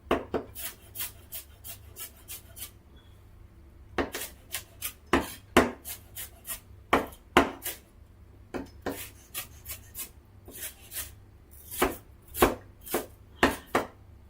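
Onions are chopped with a handheld chopper, giving rapid bursts of sharp, crisp chops in quick runs separated by short pauses, close and clear with no talking.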